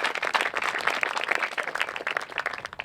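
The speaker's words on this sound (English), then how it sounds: "Give yourselves another round of applause for that." Audience at a high school groundbreaking ceremony applauding, dense clapping from many hands, fairly distant and sustained.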